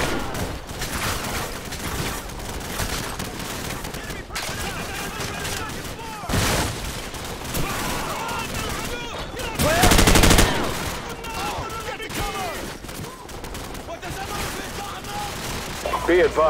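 Sustained machine gun fire in the battlefield of Call of Duty Modern Warfare, dense overlapping bursts and fusillades with a heavier blast near the middle, loud and continuous, with shouted voices mixed in.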